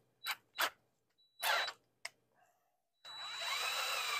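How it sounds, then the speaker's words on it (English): A hand drill spins a speedometer cable attached to the back of a Corvair van's instrument cluster, with a few short whirring bursts followed by a steady, continuous mechanical whine and hum from the turning cable. "attached the speedometer cable to the back of the speedometer of this cluster, and we're just going to try and operate it with a drill"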